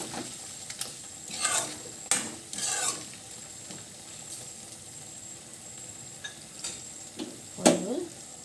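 Chicken frying in a pan with two green chillies, stirred with a utensil: a soft background sizzle broken by several distinct scraping, clattering stirring strokes at irregular intervals, close, with no talking.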